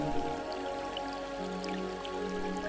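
Gentle babbling water with light drips and splashes runs steadily throughout, layered over a soft, sustained musical drone.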